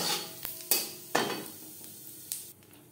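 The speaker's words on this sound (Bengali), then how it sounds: "ফোড়নে দিয়ে দেব গোটা জিরে" Whole cumin seeds dropped into hot oil in a kadai for tempering, giving several sharp bursts of sizzling that fade between hits, close and fairly loud.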